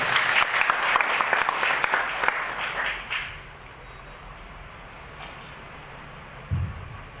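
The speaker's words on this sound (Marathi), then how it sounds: "आलेल्या सर्व पत्रकार मंडळीसाठी आपण सर्वांनी टाळ्या वाजवून त्यांचं स्वागत करा।" Applause from a crowd welcoming journalists at a press conference, dense clapping for about three seconds that then fades to quiet room noise with a brief low thump near the end.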